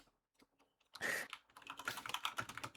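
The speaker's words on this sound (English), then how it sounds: "I was typing it in." Computer keyboard typing comes in at about one second, a quick, close run of clicking keystrokes that continues steadily to the end after a mostly quiet start.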